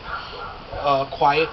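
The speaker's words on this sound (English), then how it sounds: "sorry about the dogs barking" Dogs barking at night, a few quick yips and barks rising out of the background close by, under a person speaking.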